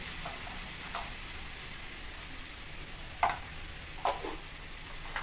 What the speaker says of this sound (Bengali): এবার মশলাটুকু নেড়ে মাংসর সাথে মিশিয়ে নেব